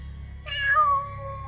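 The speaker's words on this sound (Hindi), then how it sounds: "बिल्ली?" A single cat meows once, a short clear call rising then trailing off, close by over a quiet low hum.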